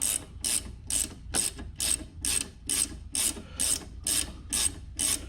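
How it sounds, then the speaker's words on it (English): A ratcheting wrench tightens rear brake bolts on a Nissan Rogue, clicking in a steady, even rhythm of about a dozen short strokes, close and clear with no talking. "with my ratcheting wrench, because I don't have a lot of room there, I'm going to crank this in"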